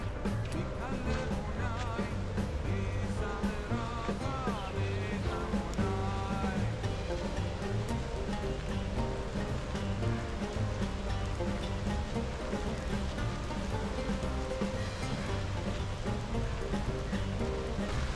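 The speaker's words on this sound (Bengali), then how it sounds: "বৃষ্টির চাপটা অতিরিক্ত বাড়ছে, কারণ এখন দেখেন জোরে জোরে বৃষ্টি পড়তেছে।" Heavy rain pours steadily through a forest at a resort, a dense continuous wash of noise without pause, loud and close throughout.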